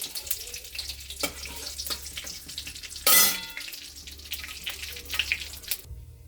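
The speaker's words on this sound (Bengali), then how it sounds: "আর একটু তেলের মধ্যে ফোড়নে দিচ্ছি গোটা জিরে, তেজপাতা, শুকনো লঙ্কা, এলাচ," Whole cumin, bay leaf, dry chili, cardamom, cloves and cinnamon crackle and spit in hot oil, a dense close sizzle with scattered pops and one brief louder burst midway, no voices.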